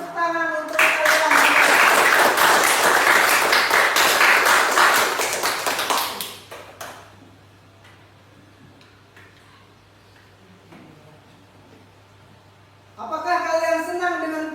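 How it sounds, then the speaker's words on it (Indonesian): A class of students claps together in a loud, dense burst of applause lasting about five seconds, then the room falls quiet under a low hum before voices start up again near the end. "Beri tepuk tangan untuk kalian."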